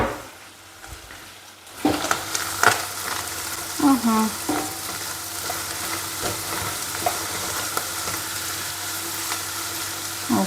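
Eggs sizzle steadily in a hot pan while a utensil scrapes and stirs them in bursts, the sizzle rising suddenly after a quiet start.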